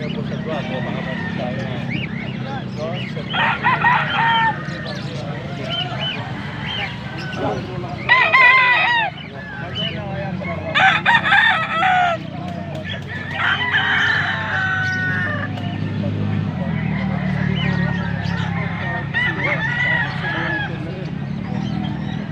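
Roosters crow repeatedly outdoors in Pampanga, several loud drawn-out calls in a row mixed with clucking, over a low background rumble and a voice speaking.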